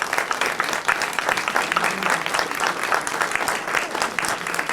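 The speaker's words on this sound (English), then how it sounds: "Let's give them all a round of applause." An audience applauds after a CD5 Democratic candidates' debate, with dense, continuous clapping that stays loud and steady throughout and no speech over it.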